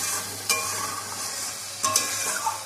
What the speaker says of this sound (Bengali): দেখো মশলা কষানো চলছে